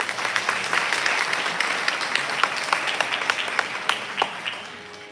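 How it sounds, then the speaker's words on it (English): Steady audience applause for a group of musicians at a live evening concert, a sustained wash of many hands clapping with a few sharper individual claps standing out, holding at a moderate level throughout. "Can we have a round of applause for them,"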